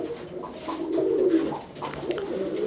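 Pigeons cooing close by, soft low throaty coos rising and falling over a few seconds with no talk.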